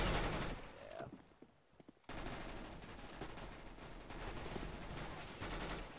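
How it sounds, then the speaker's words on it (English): Rapid, dense automatic gunfire in the video game Counter-Strike: Global Offensive, loud sustained bursts with a short quieter gap before firing resumes. "Oh, god, I'm getting shot."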